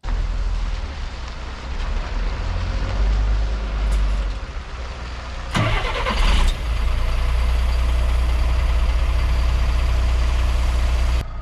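A Mercedes bus engine idles in the early morning before leaving on its route near a shop, a loud, steady low rumble with a brief burst of noise midway and no talking.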